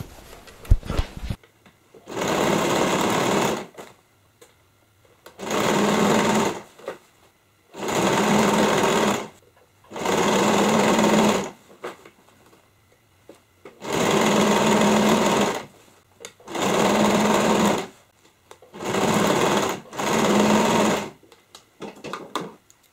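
A sewing machine stitches denim for a jeans bag in seven even bursts of several seconds each, separated by short quiet gaps, close and loud.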